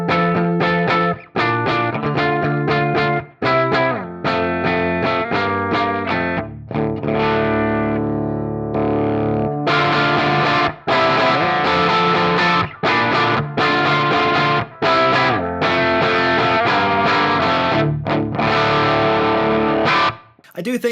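Electric guitar through a Marshall-style overdrive pedal set for light overdrive into an amp in 100-watt mode, played as loud strummed chords and ringing sustained notes with brief pauses, close and full.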